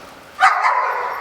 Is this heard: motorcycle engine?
no